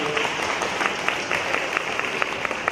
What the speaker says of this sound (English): how about a round of applause for your principal, Dwayne Nichols, and assistant principal